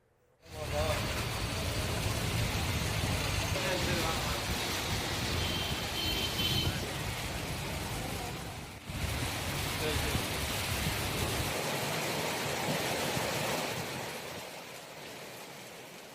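Heavy rain pouring down in Chennai, a dense, steady roar of hiss that continues for the whole stretch and eases slightly near the end, with no talk over it.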